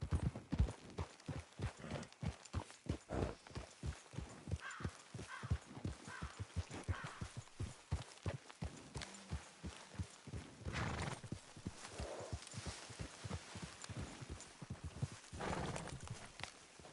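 Horse hooves clip-clop in a steady trotting rhythm in the video game Red Dead Redemption 2, with a few whinnies rising over the hoofbeats now and then.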